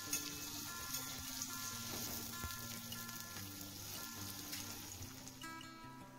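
Potato pieces fry in mustard oil while being stirred, producing a soft, even, continuous sizzle at a low level with faint spoon movements.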